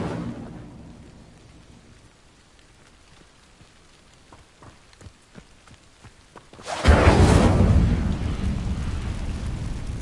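In the Hogwarts Legacy video game, an Incendio fire spell sets dry vines alight: faint scattered crackles and clicks give way to a sudden loud, roaring whoosh of flame that keeps burning steadily to the end.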